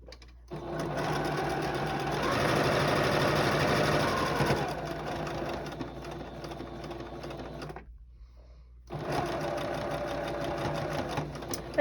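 A sewing machine stitches a charm pack star quilt block in a steady, close whir that runs for several seconds, stops briefly, then starts up again.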